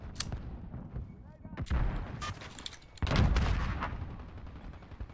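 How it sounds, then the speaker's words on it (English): Gunfire in Call of Duty Modern Warfare, several loud close gunshots and booming bursts echoing over battlefield ambience, with a player's voice heard between shots. "I feel like everywhere I'm going, someone's shooting at me."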